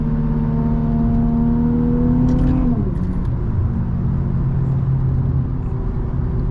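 A tuned Infiniti Q50 with an aftermarket exhaust and no blow-off valves revs up, holds a steady droning engine note, then drops to a lower rumbling idle, loud and close with no talking.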